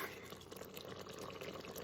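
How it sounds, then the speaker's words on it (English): Chicken broth pours into an Instant Pot in a short, faint, steady liquid stream with light splashing, and no talk over it. "5 cups of chicken broth. Pour that right in there."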